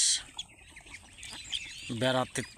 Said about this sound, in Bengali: প্রচুর হাঁস বেড়াচ্ছে।